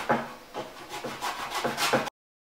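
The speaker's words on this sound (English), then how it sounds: "so lightly zest that." A fresh lime rubbed against a zester or fine grater for Thai red curry paste, a run of about five short, close scraping strokes in a steady rhythm, with no talking.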